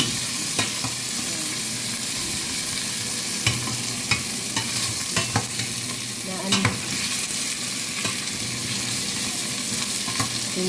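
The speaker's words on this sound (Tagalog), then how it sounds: "Ngayon, ginigisa pa lang, tinatanggalan ng mantika para less mantika. Ito. Ipiprito muna." Pork liempo frying in oil in a pan for crispy sinigang, a steady close sizzle with occasional sharp spatter pops and stirring scrapes, no voices.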